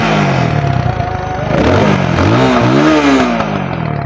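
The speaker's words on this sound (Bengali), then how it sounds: "ইঞ্জিনের সাউন্ডটা আপনাদেরকে দেখিয়ে দিচ্ছি" A used Runner Bolt 165R motorcycle is self-started, and its engine runs loudly close by. The engine note climbs and falls in a couple of throttle revs, then settles into a steady, even idle, with no one talking.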